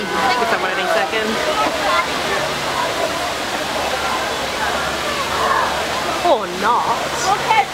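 Water rushes steadily at the Splash Mountain ride in Magic Kingdom, a loud continuous roar with splashing surges, while a person talks over it.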